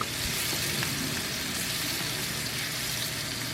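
Ribeye steak frying in a pan with rosemary, garlic and butter, giving a steady, loud, continuous sizzle with no pauses.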